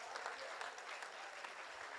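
An audience claps at a Hindi kavi sammelan poetry recital, dense and steady applause filling the hall at an even level throughout.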